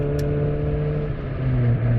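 A 28-year-old, 98-horsepower Honda Civic pulls onto an interstate, its engine humming steadily close by with a pitch that dips and rises as it shifts through the gears.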